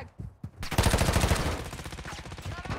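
Rapid automatic gunfire in the Warzone Mobile video game follows a couple of short sharp shots, then a sustained burst of close, loud rounds that gradually tapers.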